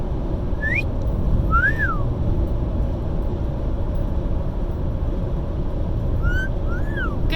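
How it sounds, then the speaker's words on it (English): A pet parrot in a moving car gives short rising-and-falling whistles, two pairs about five seconds apart, heard clearly but not loudly over a steady low road rumble with no talking. "that's Freedom whistling in the back"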